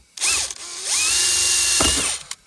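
A power drill drilling out rivets on a Land Rover Discovery 2 center console whirs in two bursts, a short one and then a longer steady run, its whine rising and falling as it spins up and winds down.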